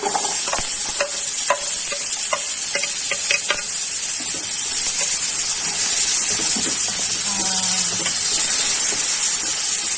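Garlic, ginger and onion fry in a pan with a steady, close sizzle and hiss, broken by the scrape and clatter of stirring throughout.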